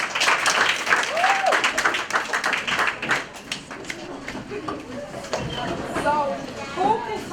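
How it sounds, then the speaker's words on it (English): A group of schoolgirls at a girls' academy clap together in a burst of applause, with voices and chatter mixed in and talking continuing over the fading claps. "Let's give ourselves a clap."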